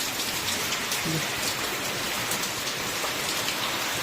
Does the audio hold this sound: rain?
yes